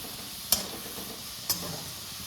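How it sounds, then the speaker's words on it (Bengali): Steady hiss of vegetables frying in hot oil, with two sharp clinks of a utensil against the pan about a second apart. "তো চটপট করে আমি ভেজে নিই।"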